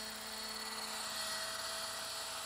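A Roban EC130 800-size scale RC helicopter spins its rotor near 1100 RPM, a steady, faint high-pitched whine with a smooth droning hum throughout.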